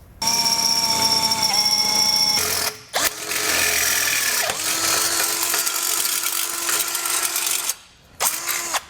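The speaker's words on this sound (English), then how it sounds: "use this as a template to drill our 1/2" holes on either side" A high-pitched power drill with a small bit whines into metal on a 2020 Jeep base plate install, running in long bursts with brief pauses, the pitch dipping as the bit bites.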